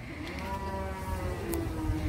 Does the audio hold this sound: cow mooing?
yes